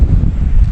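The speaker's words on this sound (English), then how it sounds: "It's really windy" Strong wind at the Columbia Icefields in the Rocky Mountains buffets the microphone with a loud, steady low rumble and no voices.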